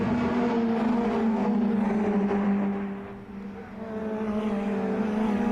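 Mitjet race cars lapping the Riga circuit during a 15-minute race, a steady engine drone with a whirring tone that dips briefly in the middle as cars pass, sounding moderately distant and continuous.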